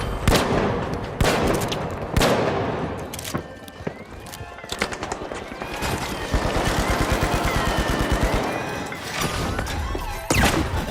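Gunfire in the video game The Finals, dense bursts of automatic fire and sharp single shots with crashes and impacts over several seconds, loud and close, with game effects in between.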